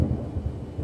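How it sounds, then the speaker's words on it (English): Thunder rumbles low and heavy in a short, continuous roll that fills the moment without any talking. "Oh, thunder."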